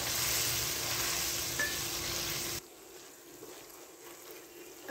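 Grated onions lightly frying in a pan for a quail korma, a steady close sizzle that drops abruptly to a quieter, softer frying hiss halfway through.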